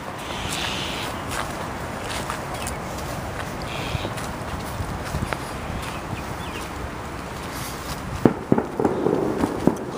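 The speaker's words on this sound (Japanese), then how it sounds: "花火が鳴ってます。" Fireworks crackle and pop at a distance over a dense, continuous rumble of bursts, with a few sharper, louder cracks toward the end, in Wuhan, China, in January.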